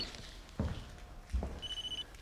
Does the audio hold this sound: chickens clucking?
no